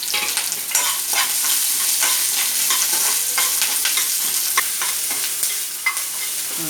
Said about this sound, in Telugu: బాండీలో కొంచెం ఆయిల్ వేసి ఉల్లి ముక్కలు వేయించుకోవాలి.